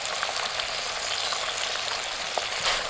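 Chili bean paste fries with dried chilies, Sichuan peppercorns and spices in a wok, a steady close hiss and crackle of sizzling oil with faint stirring scrapes throughout.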